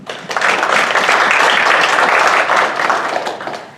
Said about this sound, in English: So, round of applause for our prayer partners.